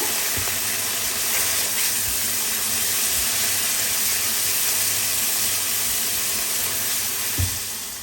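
Spiced eggplant fries in a pan with a continuous loud sizzle and hiss, with soft stirring thumps now and then.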